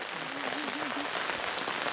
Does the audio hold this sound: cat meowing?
no